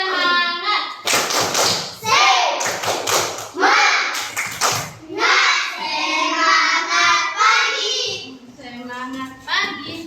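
Children in a primary school classroom chant together in rhythm, punctuated by bursts of sharp group clapping, with a woman teacher's voice leading between the claps.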